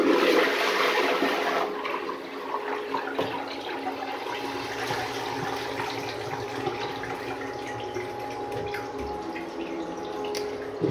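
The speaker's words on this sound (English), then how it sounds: "Alright, dry bowl flush." A miniature 1989 Kohler Highcliff toilet does a dry bowl flush: a rushing surge of water at first, then trickling and refilling that gradually settles into a quieter, steady flow.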